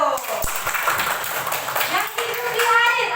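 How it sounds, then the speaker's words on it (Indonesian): Children clapping in a classroom for two classmates, an uneven burst of small hands mixed with children's voices talking and calling out over it. "Tepuk tangan untuk Intan dengan Julio."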